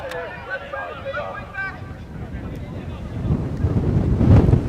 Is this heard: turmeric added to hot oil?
no